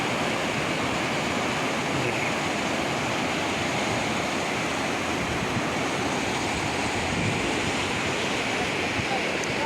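Water rushing in at a hydroelectric dam intake, a loud, steady, broadband roar that stays constant throughout, close and without pause.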